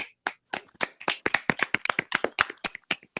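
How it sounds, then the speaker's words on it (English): A small group gives a round of applause: scattered, distinct hand claps from only a few people, close and crisp, with brief silent gaps. "Round of applause for Bryce."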